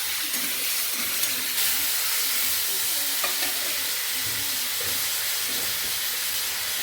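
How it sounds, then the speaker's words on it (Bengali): Tomatoes sizzling in hot tempering oil for a Bengali cauliflower-potato-pea khichuri meal, a steady close frying hiss with stirring throughout, no talking. "ফোড়নটা হয়ে গেছে, এবার আমি টমেটোগুলো দিয়ে"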